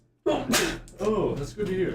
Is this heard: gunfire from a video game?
no